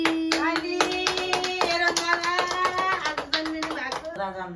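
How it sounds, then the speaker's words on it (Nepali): Quick, bright hand claps ring out at a birthday celebration, layered over singing voices and a tonal backing, with the claps landing in a brisk, uneven rhythm before fading near the end. "ताली"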